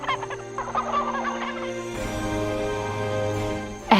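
A hen clucks in a series of short, choppy calls over steady background music, then a denser stretch of calling runs to the end.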